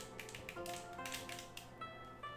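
Back attachment buttons on a PS5 controller being pressed, a quick series of sharp, close clicks in an irregular rhythm over a faint background hum.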